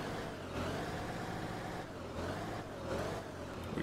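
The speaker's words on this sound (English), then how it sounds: "Let's rev it up." A simulated 2002 Blue Bird All American A3FE school bus engine in the Rigs of Rods game revs in a few quiet, wavering surges over a low diesel rumble.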